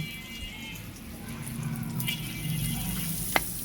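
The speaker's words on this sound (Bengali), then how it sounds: "আমরা একটু ভেজে নিচ্ছি মোটামুটি পর্যায়ে একটু ভেজে নিচ্ছি" River shrimp frying in a pan make a soft, steady sizzle with a watery hiss, close by, ending with a single sharp tap near the end.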